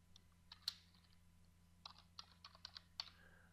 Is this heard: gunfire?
no